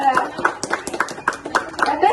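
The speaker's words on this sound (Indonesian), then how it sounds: "kita kasih tepuk tangan yuk buat Ayu ya" A short burst of hand clapping from a small group, uneven and a bit scattered, with voices chattering over it.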